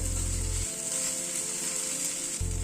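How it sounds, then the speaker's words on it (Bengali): Potato sautés in a pan with spices, giving a steady close sizzle and a low hum at the start and end, with no voices. "আলুটা মিনিট দুয়েক মতো একটুখানি কষিয়ে নিলাম"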